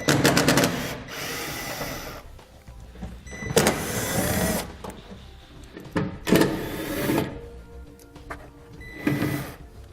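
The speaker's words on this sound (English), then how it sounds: "I'm going to be using a T15 Torx bit to pull them out" Bursts of an electric driver with a T15 Torx bit spin out wheel well liner bolts on a 2018 Chevrolet, several whirring runs separated by pauses, close and fairly loud.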